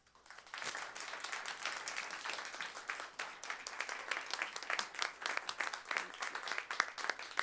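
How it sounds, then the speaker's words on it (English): An audience applauds at the close of a talk at a gender summit, a steady patter of many hands clapping that swells in and stays fairly even, heard from a distance. "round of applause"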